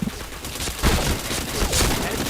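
Dense, continuous automatic gunfire from the shooter game Point Blank, loud and close, with rapid overlapping bursts and no pause across the stretch.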